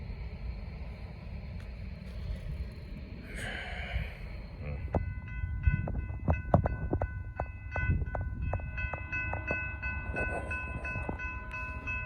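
A Norfolk Southern freight train passes on the Charlotte District, a steady low rumble growing into a string of loud metallic clanks and squeals from the wheels and couplers, with a brief horn-like tone partway through.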